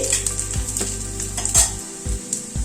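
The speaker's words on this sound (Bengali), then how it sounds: "রসুনটাকে একটু হালকা ফ্রাই করে নিচ্ছি।" Chopped garlic fries lightly in oil, a soft steady sizzle punctuated by several clinks and scrapes of a spoon stirring the pan.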